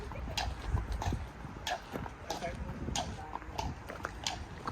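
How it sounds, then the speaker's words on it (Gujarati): A healthy, thickset horse ridden by a girl walks past at a strawberry farm in Germany, its hooves clip-clopping in an even rhythm at moderate distance while people talk nearby. "જો ઘોડો આવ્યો મસ્ત."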